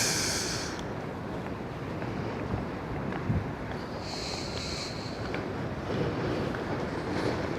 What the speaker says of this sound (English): God, I hate this wind.